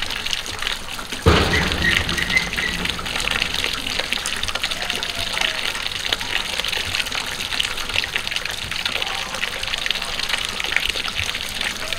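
Water gushes out for drinking, starting abruptly after a second and continuing as a steady, fairly close rushing and splashing stream to the end, with faint voices in the background.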